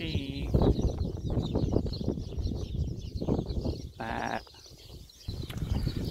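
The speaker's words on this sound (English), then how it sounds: "Oh, there's some nice sheep." Sheep bleat on a walk home through the countryside, a few short nasal calls rising over steady footsteps and outdoor rustle, fairly close, with a quieter stretch near the end.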